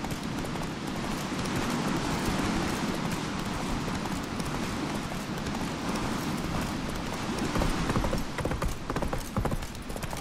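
Roach, the horse in The Witcher 3, gallops in a fast, steady clip-clop of hooves, loud and close over a dense rushing background, with no talk.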